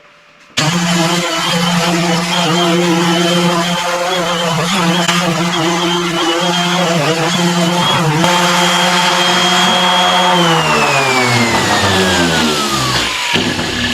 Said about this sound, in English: Okay, now that it's pretty smoothed out, I'll sand it.